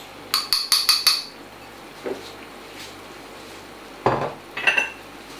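Soft brown sugar and ground almonds are stirred in a pan, heard as a quick burst of five metallic spoon clinks followed by scattered single knocks and clatters, close and fairly faint against a quiet background.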